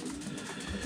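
Pigeons coo softly inside a racing-pigeon loft with an open window and no aviaries, a faint low murmur of cooing over a quiet room ambience, with no talking.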